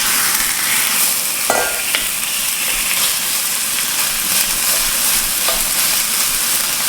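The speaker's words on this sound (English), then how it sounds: "fry the mince till it gets nice colour. Low heat." Beef mince frying on low heat in a pan for a beef and cabbage stew, giving a steady, dense sizzle with a few scraping stirs, close and continuous with no talking.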